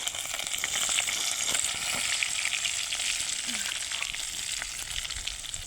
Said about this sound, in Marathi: थोडेसे जिरे मोहरी फोडणी द्यायची तडतडून घ्यायचे